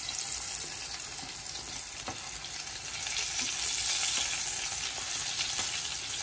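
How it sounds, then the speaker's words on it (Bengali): Pointed gourd pieces frying in a large pan of oil, a steady close sizzle and crackle with occasional stirring clicks, no talk. "এই যে পটলগুলো ভাজা হচ্ছে।"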